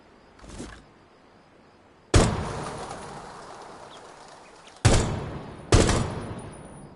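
Rainbow Six Siege shooting-range gunfire: a short muffled burst, then three loud, close, sharp shots, each trailing into a long reverberant decay, with no talking.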